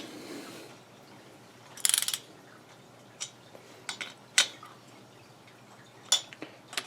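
Cylinder bolts snugged down on a 1980 Suzuki FZ50 moped engine, heard as a few sparse, sharp ratchet clicks and metallic ticks scattered through a quiet workshop, with no talking.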